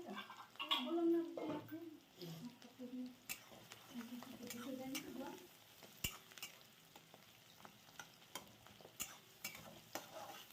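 Onions fry in a pan for homemade pasta, a soft sizzle under sharp clacks and scrapes of stirring. A voice is briefly heard early on.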